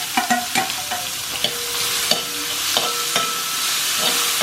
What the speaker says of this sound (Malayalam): ഈ സവാള ഇതിലേക്ക് ഇട്ടിട്ട് വഴറ്റി കൊടുക്കണം